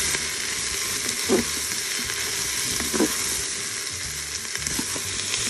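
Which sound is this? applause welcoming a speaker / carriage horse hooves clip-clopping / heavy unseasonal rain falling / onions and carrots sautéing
onions and carrots sautéing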